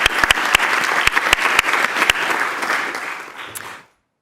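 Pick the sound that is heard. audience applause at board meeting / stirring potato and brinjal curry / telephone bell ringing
audience applause at board meeting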